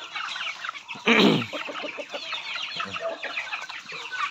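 Native chickens on a free range cluck and chatter in a busy flock, with one louder close squawk early on over a continuous layer of softer clucks.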